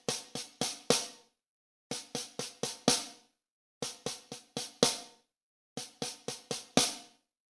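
Snare drum playing a five-stroke roll rudiment with alternating hands, four groups of five quick strokes each ending on a louder accented hit, evenly spaced with silences between, crisp and close.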